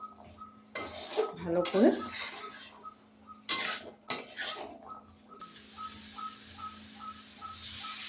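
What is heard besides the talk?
stirring chickpeas in a cooking pan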